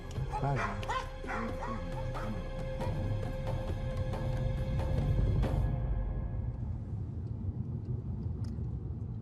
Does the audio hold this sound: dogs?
yes